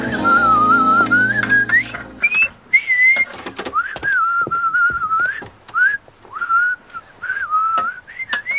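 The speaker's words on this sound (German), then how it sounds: "musst du unbedingt falsch pfeifen während der Arbeit" A single person whistles a wandering, slightly off-pitch tune up close, with short pauses between phrases and a brief low hum at the start.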